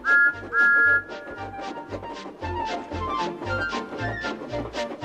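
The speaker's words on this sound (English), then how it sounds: "He blew an angry peep, peep on his whistle." A Thomas toy train's high whistle peeps repeatedly in short bursts over a steady rhythmic chugging on Trackmaster and wooden railway track, with occasional longer toots mixed in.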